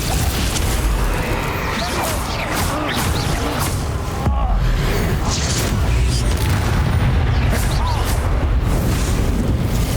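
Confringo and Bombarda spell blasts in Hogwarts Legacy on Nintendo Switch, loud continuous booms and crashing impacts, with a voice shouting over the combat.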